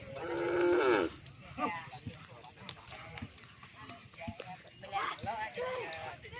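A cow lets out a loud moo at the start, then more lowing from cattle and small calves and rustling farm sounds follow, with people talking nearby.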